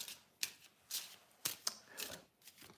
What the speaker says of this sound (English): So, Thomas, I'm going to shuffle